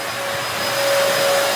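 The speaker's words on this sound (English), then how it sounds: "We've got these floors completely sanded and we're vacuuming out" A vacuum cleaner with a brush attachment runs over freshly sanded wooden floors, a loud, continuous airy whine with a steady high tone, close by and alone.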